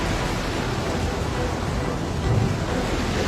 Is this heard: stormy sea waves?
yes